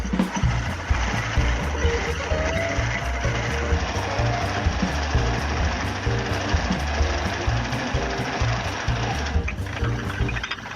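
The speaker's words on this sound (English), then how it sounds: "I'm using a Forstner bit." A Forstner bit bores into a wooden vase blank for woodturning, giving a loud, steady, rattling mechanical drone with a regular pulsing rhythm that runs unbroken for several seconds.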